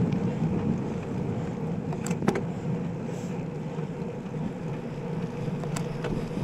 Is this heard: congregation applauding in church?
no